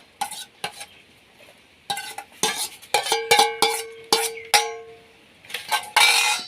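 Chopped green chilies and onions drop into a hot pan for a fish curry, giving irregular clanks and metallic scrapes of a spoon against the pan with a light sizzle underneath, close and fairly loud.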